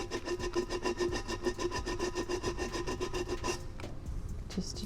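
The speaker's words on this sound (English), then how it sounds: "So now I'm going to take just some sandpaper around the top" Sandpaper rubbed by hand around the top of a DIY Halloween pumpkin decoration, giving a steady rhythmic rasping of quick repeated strokes, close and fairly loud, with a brief pause near the end.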